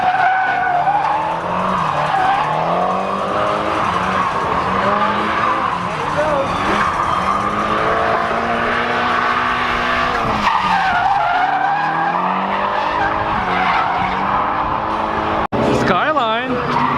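A Nissan Skyline drifts at a drift event with loud, continuous tire squeal and a revving engine whose pitch sweeps up and down, while people talk excitedly over it.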